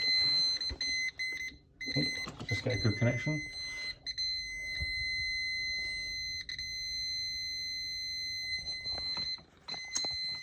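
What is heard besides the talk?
beeping of electrical tester checking boiler supply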